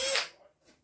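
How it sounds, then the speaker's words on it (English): A small drill bit bores screw holes for a homemade birthday calendar, one short whirring burst that fades quickly, followed by a faint second touch. "I'm just going to drill the holes where the lines are"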